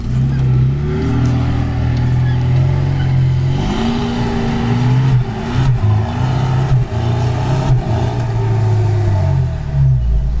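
Lada Niva off-road car with self-locking differentials revving hard and accelerating in a natural outdoor setting, a loud, continuous engine drone that rises and dips in pitch with throttle, close and steady throughout.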